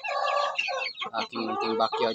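A four-month-old Japanese Shamo rooster crows and clucks loudly and nearby in a small backyard, with someone speaking partway through.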